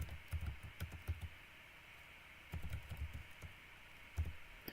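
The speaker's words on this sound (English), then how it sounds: "I'm typing it in so that you can see it on your computer" Fingers type on a computer keyboard in quick bursts of close, crisp key clicks, separated by short pauses, over a faint background hum.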